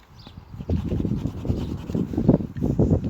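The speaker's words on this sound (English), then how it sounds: "I'm going to rub some of it off now" Pastel being rubbed off a drawing on paper, a close, steady scratchy rubbing in quick repeated strokes that lasts about three seconds with no voices.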